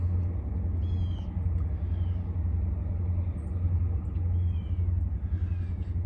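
A freight train approaches on a grain spur of a Cincinnati Eastern railroad line, heard as a steady low engine rumble, fairly loud and continuous, with faint high squeals above it and no talk.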